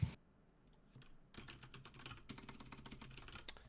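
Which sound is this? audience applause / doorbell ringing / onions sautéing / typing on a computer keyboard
typing on a computer keyboard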